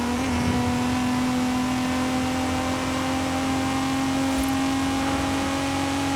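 Steady engine drone from a 1993 Nissan Skyline R33 held at a constant pitch while driving in Forza Horizon 5, a continuous loud hum with no speech over it.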